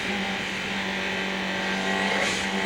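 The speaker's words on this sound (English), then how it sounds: "we take our race cam. Sitting on top of Colin Bond's Caltex Sierra" Loud, steady roar of Colin Bond's Caltex Sierra race car, number 8, heard from an onboard camera mounted on top during a race, the engine droning continuously with a slight rise in pitch near the end.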